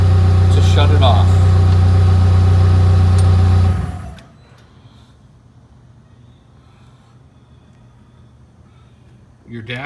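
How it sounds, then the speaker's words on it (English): A PowerBoss Nautilus HD engine idles loud and steady, then shuts off abruptly, leaving a quiet room with faint shuffling and a brief noise at the end. "Idling the engine to shut it off."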